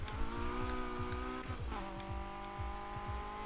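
A Honda Civic fitted with track parts revs hard in Need for Speed Heat. The engine note climbs, drops briefly through a gear change, then climbs again, with a rhythmic low pulsing and faint tire squeal, loud and continuous.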